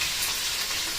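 Garlic sautéing in a home kitchen pan, a steady hissing sizzle that stays even and fairly close throughout, with no talking.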